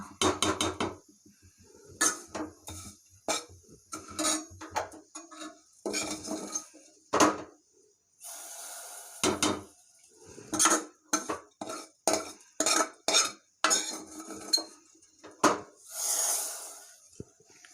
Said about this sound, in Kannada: ಇವಾಗ ಈ ಶಾವಿಗೆನ ಹೆಸರುಬೇಳೆ ಜೊತೆ ಮಿಕ್ಸ್ ಮಾಡ್ಕೊಳ್ಳೋಣ.